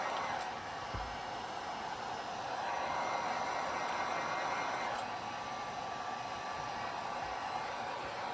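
Heat blown onto headlight tint film during a Crux Moto headlight tint install for an EVO gives a steady, close airy whoosh that holds evenly for several seconds with no talking.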